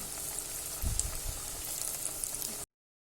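Soya chunk vadas frying in hot oil, a steady soft sizzle and crackle with a couple of low bumps partway through, then sudden silence.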